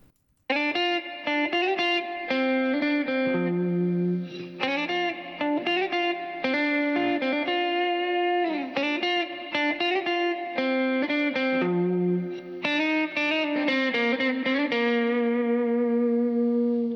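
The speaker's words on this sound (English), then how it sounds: "So this is the guitar melody that I just wrote." An effects-laden electric guitar plays a freshly written melody in a pop song, sustained and loud throughout with steady phrased notes and no voice.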